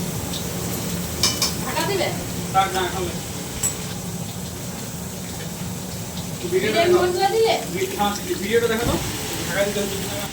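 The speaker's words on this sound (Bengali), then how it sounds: "এই দেখো আমার মাংসটা রান্না হচ্ছে।" Meat for biryani simmering and sizzling in a pot, a steady close bubbling hiss with occasional stirring scrapes, while a voice talks intermittently over it.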